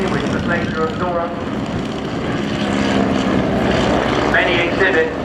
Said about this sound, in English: Sopwith triplane which is following it